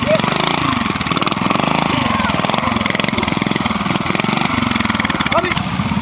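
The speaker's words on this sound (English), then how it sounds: "John Feather, 350, rigid Royal Enfield." A rigid-framed Royal Enfield 350 motorcycle engine runs loud and near at a hill-climb event, a rapid, steady thumping beat with pulsing surges throughout, and a voice speaking over it.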